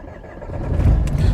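A manual-transmission car's engine cranks and starts while the gearbox sits in neutral, its low rumble swelling and growing louder over about a second with no voices.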